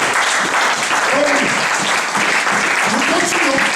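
A church congregation at a French-language sermon bursts into loud, sustained applause, with voices calling out in acclaim over the clapping throughout.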